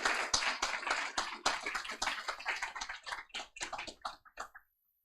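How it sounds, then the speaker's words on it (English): Summit audience applauding a panel, a full burst of clapping from a seated crowd that thins to a few scattered claps and then stops. "can we have another applause for the panel and for their courage in sharing their stories?"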